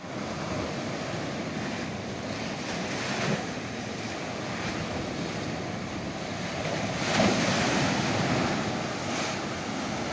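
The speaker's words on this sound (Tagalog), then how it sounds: "Lalaki ng alon talaga." Large ocean waves roll and crash in a constant rumbling surge during a typhoon, with gusting wind buffeting the microphone and a swell building near the end.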